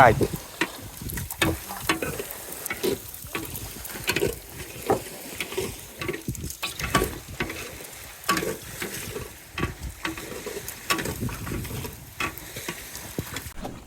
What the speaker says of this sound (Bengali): আমাদের মাছের তরকারির জন্য এখানে মশলা বাটা হচ্ছে